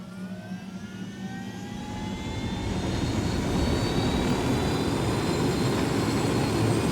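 A helicopter in the video game Ghost Recon Wildlands roars continuously, its engine and rotor noise swelling louder as it powers up and takes off, steady and close with no talk over it.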